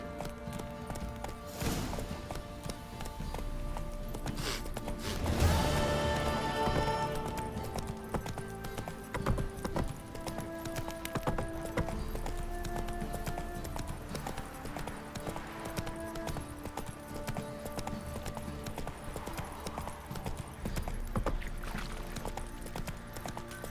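Roach, Geralt's horse in The Witcher 3, galloping at a steady rhythmic clip-clop of hooves for a long stretch, close and moderately loud, under game music and ambient sound, with a brief spoken line near the start.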